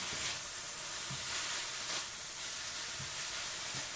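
Philly cheesesteak filling sizzles steadily in a hot pan as it is mixed, a continuous close hiss of frying with a few soft clinks of the utensil.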